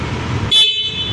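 A loud, steady PIAA electric horn on a Yamaha Aerox scooter blares in a single sustained blast after a burst of engine-like rumble, close and piercing.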